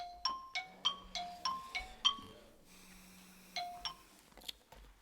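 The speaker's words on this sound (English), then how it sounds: "That is the sound of an alarm clock." An alarm clock rings out a series of bright, decaying chime tones in quick succession, pauses briefly, then repeats a few more notes, fairly quiet in a large room.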